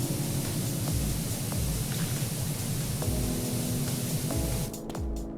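Steady, loud hiss of a pressure washer firing through a swirly rotating nozzle in PowerWash Simulator, a continuous spray with faint looping game music underneath, easing slightly near the end.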